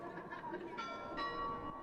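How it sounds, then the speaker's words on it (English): City church bells in Haarlem ring out at nine in the evening, their resonant tones sounding at a moderate distance over murmuring crowd chatter and brief laughter. "Every night you'll hear these bells ring for half an hour long."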